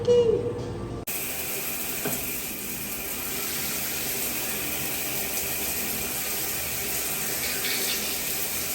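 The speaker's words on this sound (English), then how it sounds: "that one toilet seems to be possessed because it just keeps going off" An RV park toilet keeps refilling on its own, a steady close rush of running water that starts abruptly after a brief moment of other sound and then continues evenly.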